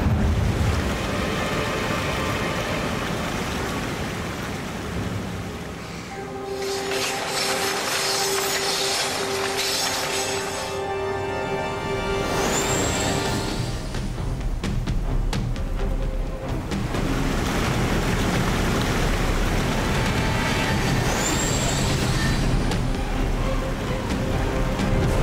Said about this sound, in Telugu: ఇదొక మ్యాజికల్ వాటర్ ఫాల్